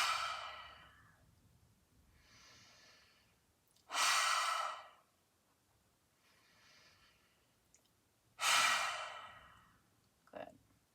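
Forceful open-mouthed lion's breath exhales in a yoga class, with two strong breathy bursts near 4 and 8.5 seconds and softer breathing sighs between them, close to the microphone in a quiet room.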